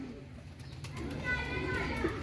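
Pigeons coo softly and repeatedly amid a murmur of voices and faint background activity.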